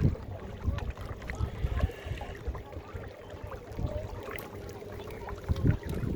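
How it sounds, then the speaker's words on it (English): A Hobie kayak is pushed hard into a headwind at the mouth of the Duffins on Lake Ontario, with water splashing and sloshing against the hull in uneven bursts under light wind noise. "Let's see what she can do."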